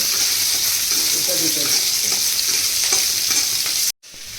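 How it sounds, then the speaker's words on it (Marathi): Green chilies frying in hot oil in a pan, a loud, close, continuous sizzle with light stirring clatter, cutting off abruptly near the end before a quieter hiss resumes. "इथे मिरच्या फ्राय करते"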